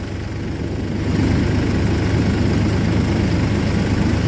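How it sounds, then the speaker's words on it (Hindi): A small car approaches and speeds past on a road, its engine and tire roar swelling to a loud, steady rush with no voices. "गाड़ी थी छोटी और आंधी तूफान की तरह आके निकल गई"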